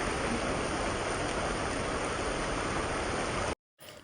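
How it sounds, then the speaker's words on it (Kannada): Steady rain falling, a dense even hiss that runs unbroken for several seconds before cutting out abruptly near the end and briefly resuming. "ಅಷ್ಟೊತ್ತಿಗೆ ಮಳೆ ಸ್ಟಾರ್ಟ್ ಆಯಿತು ಇನ್ನೊಂದ್ಸತಿ"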